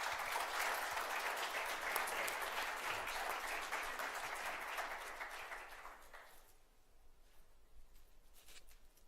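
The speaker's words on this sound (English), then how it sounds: "Can we just give him a round of applause real quick?" An audience at an operational excellence talk applauds, a dense crowd clapping that holds for several seconds, then thins and fades away to quiet room tone.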